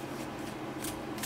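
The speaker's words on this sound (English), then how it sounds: "I'm going to continue shuffling on camera here" Tarot cards shuffled close up: soft, quiet riffling and papery slides in a few short bursts, alone without speech.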